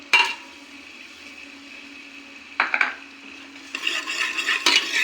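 Ginger, garlic and green chili paste being stirred and fried in butter in a pan for pav bhaji, a quiet steady sizzle with sharp scraping clinks of a spoon against the pan, close and alone.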